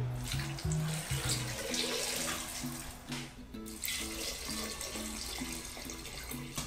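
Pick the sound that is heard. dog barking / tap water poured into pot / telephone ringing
tap water poured into pot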